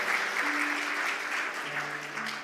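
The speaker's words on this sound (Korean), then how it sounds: "우리 잠깐 일어나시면 박수로 한번 환영하겠습니다." A Korean church congregation in Orange County, standing at Sunday worship, claps to welcome returning members: a steady, moderately loud wash of many hands, with faint sustained tones from an organ or keyboard underneath.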